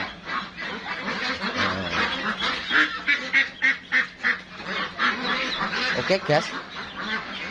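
Meat ducks on a duck farm give a rapid run of loud, honking quacks in a rhythmic burst mid-clip, with someone talking over the flock at the beginning and end.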